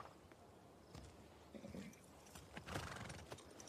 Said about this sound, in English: Straight back to the horses.